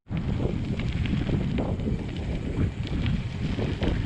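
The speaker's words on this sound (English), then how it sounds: "It's very windy" Strong wind roars and buffets the microphone while a cyclist rides gravel roads in Loudoun County, Virginia, a steady, loud rumble with gusting swells throughout.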